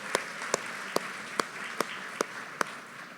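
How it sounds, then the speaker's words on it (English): Sparse, evenly spaced hand claps ring out at an academic college plenary, about seven sharp claps over a few seconds, fairly faint in a quiet hall. "So let's applaud in absentia for her."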